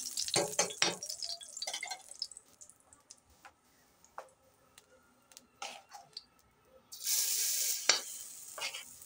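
Oil heating in a hot pan for aloo paratha gives a quiet sizzle with scattered ticks and crackles, then a louder, steady frying hiss swells near the end.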